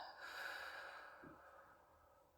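A single soft exhale during a guided breathing meditation, a slow breath out that fades gradually over a couple of seconds, close and quiet, with a brief snort-like puff partway through.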